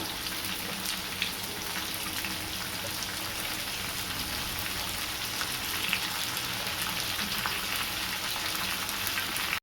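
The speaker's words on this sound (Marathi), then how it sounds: "बटाट्याचे काप जे केलेले धुवून स्वच्छ केलेले काप टाकून घेऊया।" Washed potato slices sizzle in hot oil in a pan, a steady dense crackle with fine popping that holds evenly throughout, close and fairly loud, with no voices.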